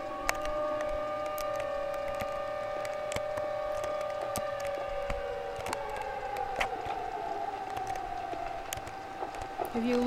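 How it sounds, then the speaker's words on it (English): Tornado siren wailing during a tornado outbreak, several sustained tones holding steady then slowly sliding downward, faint and distant under occasional clicks and background noise. "Oh, now there goes the tornado siren."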